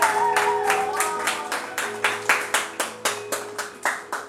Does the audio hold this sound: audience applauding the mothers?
yes